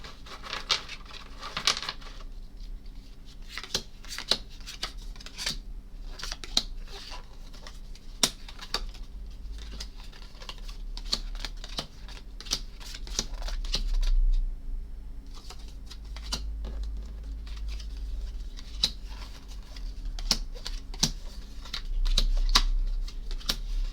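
A deck of game cards for Arkham Horror being shuffled by hand, a long run of soft crisp riffles and patters in irregular bursts over a low background hum, close and fairly quiet.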